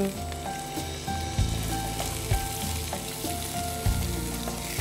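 Onions frying and sizzling in a pan while cooking, a steady loud crackle with a few stirring knocks, no talk over it.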